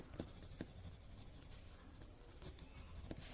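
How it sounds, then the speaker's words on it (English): Pencil shading strokes on paper while adding shade to a tangle drawing, a soft steady scratchy rubbing with a few light taps, close and quiet. "I'm going to pick up my pencil and add some"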